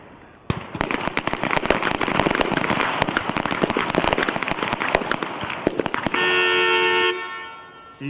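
Rapid pistol shots in a team pistol match at the U.S. Army Small Arms Championships ring out as a dense, irregular volley of sharp cracks, many shooters firing together on an outdoor range, ending with a sustained horn-like tone.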